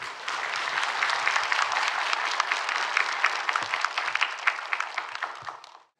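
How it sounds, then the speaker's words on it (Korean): Church congregation applauding warmly to welcome a pastor to the pulpit, a dense sustained clapping that swells and carries steadily for several seconds before cutting off. "뜨거운 박수로 목사님 모시도록 하겠습니다"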